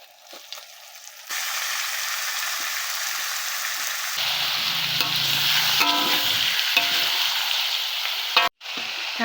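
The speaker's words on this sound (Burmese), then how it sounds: "ဒါတော့ကြက်သားချက်ပါပေါ့နော်" Chicken curry cooking in a pot outdoors by a stream sizzles and bubbles steadily and loudly at close range, with occasional stirring scrapes and a brief sharp clatter near the end; no one speaks.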